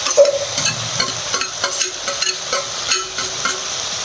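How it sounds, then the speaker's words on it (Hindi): Chopped tomatoes go into roasted masala in a home kitchen pan, and a steady close sizzle runs under scraping spoon strokes that come in a loose rhythm. "अब इसमें हम डाल रहे हैं टमाटर"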